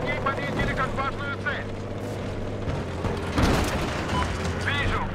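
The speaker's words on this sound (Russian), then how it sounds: "Вижу вражескую вертушку." An enemy helicopter in the video game Battlefield 4 drones with a low, steady rotor hum beneath game effects, a sudden boom midway, and someone talking over it.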